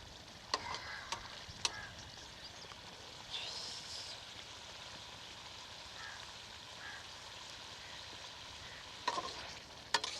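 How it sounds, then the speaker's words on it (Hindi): White chicken karahi with white pepper powder frying in a wok gives a low, steady sizzle under occasional sharp taps of a spoon against the metal, quiet and even throughout. "एक मिनट के लिए इसे भून लेंगे।"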